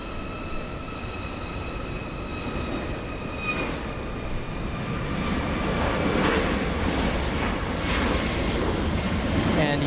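A Southwest airliner at Los Angeles International Airport, a broad jet engine roar with whining tonal lines, swelling louder toward the end, under faint background talk.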